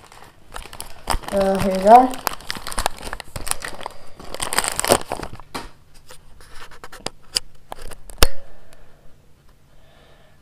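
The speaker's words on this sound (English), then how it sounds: "So let's just take it out of the packaging." Plastic packaging crinkles and rustles as skateboard-style wheels are pulled out, with crumpling and scissor-like snips in bursts while someone talks briefly over it.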